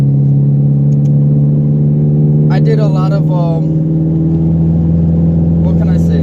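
A turbocharged Honda Integra drives with a steady, loud mid-pitched engine drone that holds even throughout, while someone talks over it.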